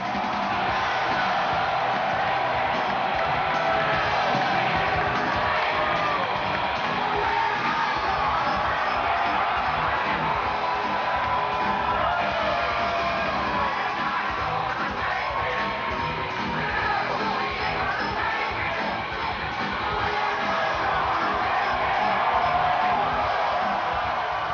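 A big crowd at a Donald Trump rally in Manassas, Virginia roars without a break, a loud dense wash of cheering and yelling that stays steady from start to finish.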